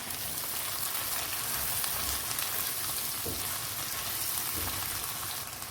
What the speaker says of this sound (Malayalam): ഇതിലേക്ക് 1 പച്ചമുളക് അരിഞ്ഞത് ഇട്ട് കൊടുക്കാം. വഴറ്റി കൊടുക്കാം.